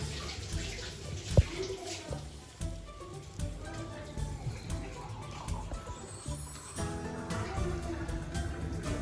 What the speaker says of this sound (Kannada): ಸ್ವಲ್ಪ ಸ್ವಲ್ಪ ನೀರು ಹಾಕೊಂಡು ಕಲಿಸ್ಕೊಂಡ್ಬಿಡೋಣ.